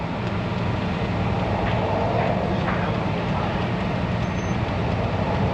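Car engine held at full throttle in a repair shop, a loud, steady, dense roar with little change in pitch throughout, no talk.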